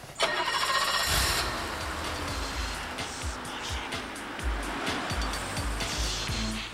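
A straight-six 3.5-litre car engine cranks and catches near the start, then runs with uneven revs and throttle blips, loud and close throughout.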